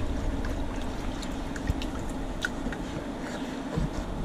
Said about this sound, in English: I'm gonna go ahead and pour this drink jar water in there